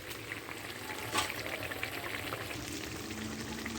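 A bay leaf sizzles in hot oil in a pan, a steady close crackle and hiss with small pops, while cooking a spicy khoira and hilsa fish curry.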